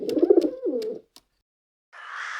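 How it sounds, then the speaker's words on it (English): A dove gives a single close, soft low coo in a rolling phrase, then falls silent before a brief hiss of different noise. "Dove."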